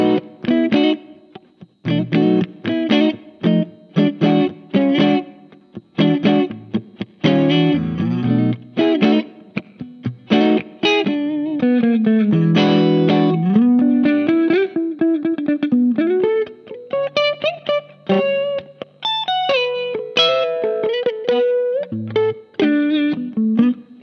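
A parts-built electric guitar played through crunchy distortion in the middle pickup position, loud and close, with choppy chords giving way to sustained held notes and bends, and no talking over it.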